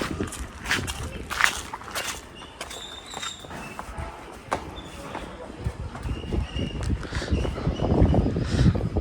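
Footsteps walking across a sky bridge at Nandi Hills near Bangalore, steady irregular steps under blustery outdoor wind and background noise, with people talking intermittently.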